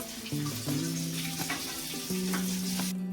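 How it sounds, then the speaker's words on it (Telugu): Curry leaves and long-cut green chillies crackle and sizzle loudly in hot oil during chicken leg fry preparation, a steady close frying hiss with brief bursts of spatter and stirring. "ఇప్పుడు నేను కరివేపాకు వేస్తున్నాను. పచ్చిమిర్చి పొడవుగా కట్ చేసుకొని వేసుకోవాలి."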